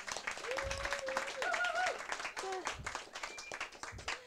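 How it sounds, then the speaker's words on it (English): A room of people claps in a steady patter of applause, with voices and cheerful exclamations rising over it. "I'd like to instigate a round of applause to Tom for organising all of this."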